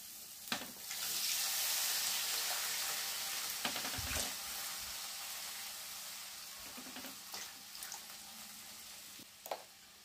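Water poured into a pan of shredded chicken, hissing and sizzling steadily with a few clinks and scrapes, close and continuous.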